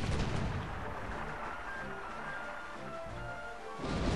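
Ship cannons firing in the Sid Meier's Pirates video game, a rolling series of booming blasts over a dense rumbling wash that swells again at the end, with no talk.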